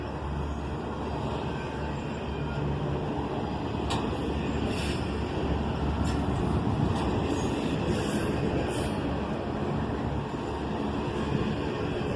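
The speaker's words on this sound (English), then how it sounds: "I do like that buzzing sound the train wheels make on the rails at this speed" A steady, continuous rumbling buzz of CSX train wheels running on rails at speed, with faint high squeals and clicks over the top.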